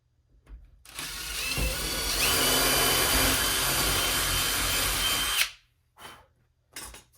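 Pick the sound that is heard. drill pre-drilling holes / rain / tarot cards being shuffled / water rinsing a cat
drill pre-drilling holes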